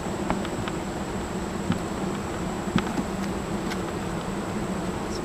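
Honeybees hum around open hive frames during a honey harvest, a soft continuous buzz with a few faint clicks and knocks of handling mixed in.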